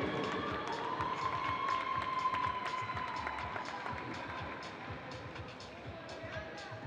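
Crowd at the NABBA Mr Mexico & Ms Fitness 2022 bodybuilding championship in Mexico cheers and applauds for an athlete from Jalisco, a busy wash of clapping and hubbub that gradually fades, with a long whistle or shout riding over it.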